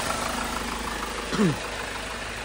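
A Hyundai Starex CVX van engine idles steadily in a low, even drone, with a brief louder tonal sweep near the middle and faint talk nearby.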